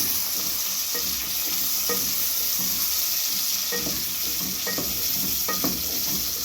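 Onions for pilau fry in hot oil with a steady, close sizzle, and a few soft scrapes of stirring come and go throughout.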